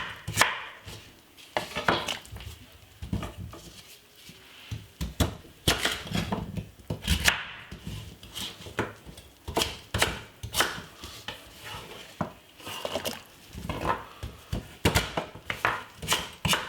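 Vegetables are chopped into chunky pieces on a board for a Jamaican Sunday dinner, sharp knife strikes landing in irregular bursts and pauses, close and crisp, with no talk.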